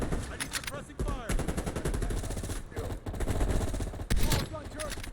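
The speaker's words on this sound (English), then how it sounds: "I need suppressing fire." Rapid, dense gunfire bursts from Call of Duty: Black Ops Cold War fill a chaotic firefight, with overlapping shots and loud impacts running almost without pause while voices call out in the background.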